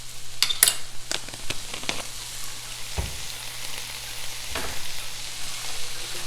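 Potatoes and vegetables get stirred in a hot skillet with olive oil and salt, giving a low sizzle with scraping and clattering stir strokes near the start and a few knocks later.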